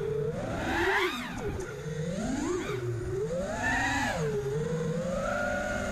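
A ZMR210R racing quadcopter flying on stock Betaflight 3.0.1 settings, its motors whining and oscillating as the pitch rises and falls in sweeping waves, recorded on board and loud throughout.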